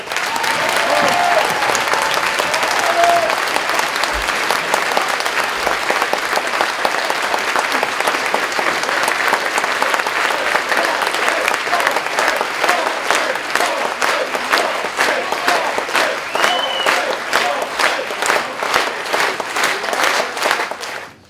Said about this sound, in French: Je vous demande un tonnerre d'applaudissements pour Jean-Frédéric Poisson.